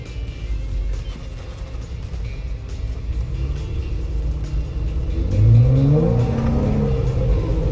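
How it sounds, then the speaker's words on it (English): A 2016 Jeep Wrangler Unlimited exhaust under acceleration, a steady low rumble building into a rising engine rev midway, heard from inside the vehicle with no talking. "Exhaust sounds good. It's not overly loud. It sounds really nice."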